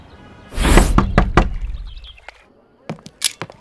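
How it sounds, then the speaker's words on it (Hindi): Knocking on a door in a film scene: a burst of heavy thuds followed by a few firm knocks, then a pause and another quick set of sharper raps, close and loud. "मारूफ, दरवाजा खोलिए, एक जरूरी खबर देनी है"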